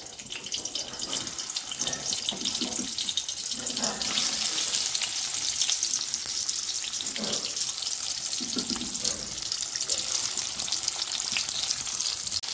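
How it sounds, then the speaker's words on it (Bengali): Eggs frying in hot oil in a pan, a loud continuous hiss and crackle like rushing water, with a few muffled thumps and shifts midway, steady and close without voices. "এবার আমার তেলটি গরম হয়ে গেছে, আমি একটা একটা করে এই ডিমগুলোকে সব ভেজে নেব।"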